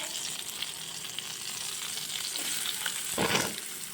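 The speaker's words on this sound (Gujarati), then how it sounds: "હવે એને ગોલ્ડન બ્રાઉન સુધી હું કૂક કરી લઈશ" Half a cup of onion frying in oil toward golden brown for a matar paneer curry, giving a continuous dense sizzle up close with a brief louder stirring scrape near the end.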